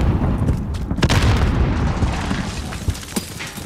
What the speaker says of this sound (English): I'm gonna throw a grenade on that side